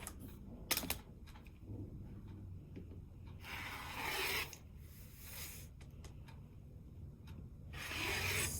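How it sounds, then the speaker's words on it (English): Scissors slicing through wax canvas fabric, with quiet rasping and rubbing strokes in short bursts, fairly faint and close, no talking. "I'm going to cut 2 pieces of the wax canvas"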